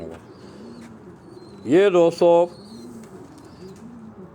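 A domestic pigeon on a rooftop pigeon loft in Rawalpindi gives one close, throaty coo in two quick pulses midway through, set against quiet background with a short spoken word.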